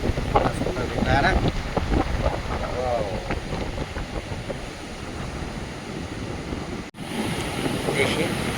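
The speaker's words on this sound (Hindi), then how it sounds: "देखिए आज लहरें बहुत तगड़ी हैं, बहुत ज़ोरदार" Strong ocean waves at Nagoa Beach in Diu wash and roar steadily under heavy wind buffeting on the microphone, with a brief dropout near the end.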